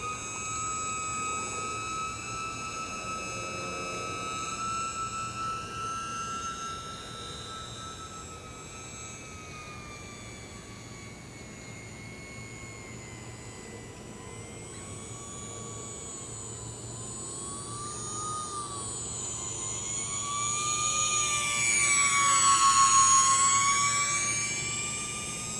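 E-Flite UMX Aero Commander small electric RC model plane flying a slow stall, its motor a thin high whine that dips and wavers, then swells louder as it passes close near the end.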